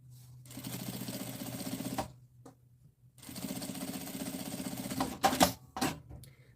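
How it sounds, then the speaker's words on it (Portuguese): A sewing machine stitches a seam just below a zipper on a small double bag, running in two steady bursts of rapid mechanical clatter separated by a pause, then a few short clicks and thumps at the end. "Costurinha aqui, ó, meio pé de máquina abaixo do zíper pra rebater."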